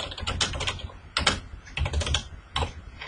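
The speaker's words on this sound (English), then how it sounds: "there I'll type my footnote text" Footnote text is typed on a computer keyboard in quick, irregular bursts of close, crisp key clicks with short pauses between them.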